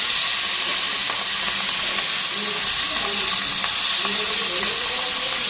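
Small pieces fry lightly in hot oil in a home kitchen, a continuous loud sizzle and hiss with scattered pops and stirring clatter, no voices over it.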